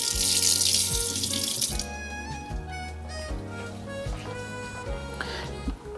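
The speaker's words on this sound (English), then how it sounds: "Let me rinse this and then I'll stir it." Running tap water splashes over an AeroPress coffee maker being rinsed in a sink, a loud broadband rush for the first two seconds that then settles into a steadier, lower-pitched flow with tonal ringing, continuing close and alone without talk.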